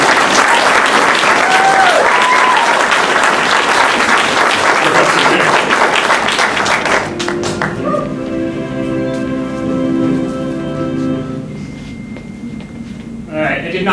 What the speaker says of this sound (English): So I think he deserves a round of applause first,